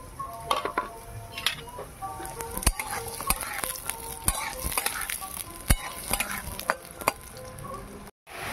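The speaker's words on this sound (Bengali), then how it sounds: "প্রথমে আমি আলুগুলো ভেজে নেব।" Potatoes frying in mustard oil in a wok over a stove: steady sizzle with frequent sharp metallic clinks and scrapes of a spatula stirring against the pan, close and lively.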